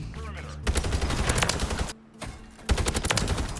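Rapid automatic gunfire from the SOA Subverter in Call of Duty: Modern Warfare, loud close bursts broken by a short pause, then another sustained burst, with game effects underneath.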